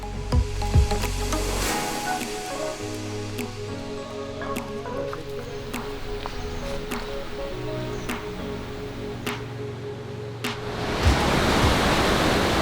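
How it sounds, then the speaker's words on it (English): A waterfall in the Sri Lankan highlands rushes continuously at moderate distance, a broad steady roar with occasional light knocks and clicks nearby. "We're seeing the waterfall now for the first time."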